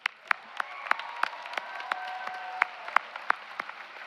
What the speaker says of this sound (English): let's stop and give a round of applause for that